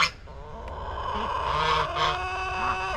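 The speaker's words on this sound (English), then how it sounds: "There's another cockerel right there." Chickens and a cockerel in a barn cluck and call steadily and close by, with overlapping bird sounds throughout and no talking.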